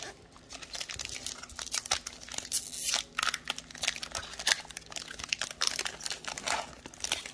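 A Pokémon Fusion Strike booster pack is torn open and its foil crinkled, with a dense run of close crackling, rustling and ripping bursts throughout.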